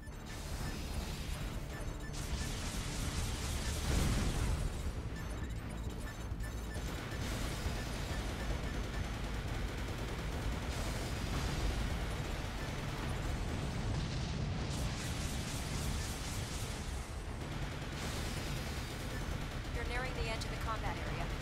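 Cannon on a mech in Armored Core 4 firing repeatedly, heavy booming blasts and bursts recurring every few seconds over ongoing game noise, with a voice talking at times.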